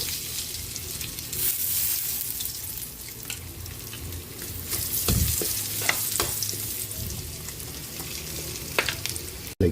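Garlic sizzling in melted butter in a pan for a mussel dish, a continuous close frying hiss with scattered stirring clinks and scrapes and one dull thud midway.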